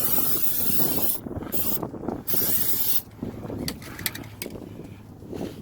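Fluid Film undercoating sprayed from an aerosol onto the underside of a new Jeep Gladiator: a steady hissing spray fills the clip, broken by a couple of short pauses, close and fairly loud, with no talking.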